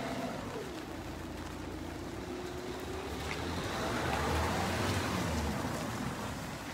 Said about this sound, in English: It's not very hard rain. It's steady, but it's not bad.